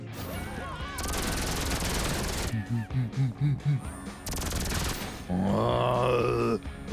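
Gunfire in GTA 5, with loud broadband bursts at the start and again midway, between stretches of grunting and groaning vocal sounds and a rising wail near the end.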